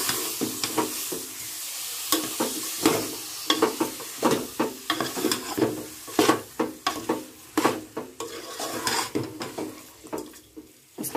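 Chicken curry masala sautéed in a pan, with repeated irregular scraping and clanking stirs of a utensil over a soft sizzle, close and alone.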